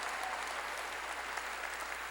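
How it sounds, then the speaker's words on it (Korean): A church congregation claps steadily during a pastor's sermon, producing a dense, even wash of applause with no pause. "깨달은 사람만 박수 쳐."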